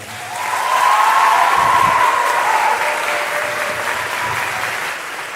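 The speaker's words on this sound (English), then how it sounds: "So let's give them one more round of applause." Sustained applause from a concert audience after a classical showcase performance, swelling quickly, holding steady and loud for a few seconds, then slowly thinning out.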